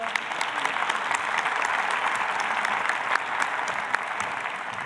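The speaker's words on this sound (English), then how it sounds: "A great applause for them, please." Enthusiastic audience applause for a conference panel at a large hall, dense and continuous clapping from many people with scattered sharper claps standing out, sustained at full strength.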